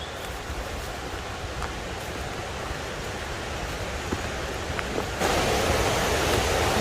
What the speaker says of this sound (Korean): 계곡 물소리 좋습니다.